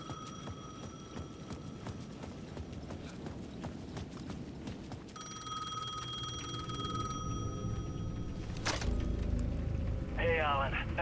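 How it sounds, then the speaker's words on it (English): A payphone rings with steady electronic trills over busy Alan Wake 2 game ambience of clopping hooves and crowd noise in a plaza, with voices murmuring in the background. "The payphone at the edge of the plaza was ringing again."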